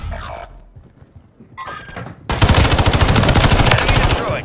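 Rapid automatic gunfire in Call of Duty Warzone's Rebirth mode, a loud, fast stream of shots that bursts in abruptly after a quieter stretch with a few scattered sounds, then keeps going to the end.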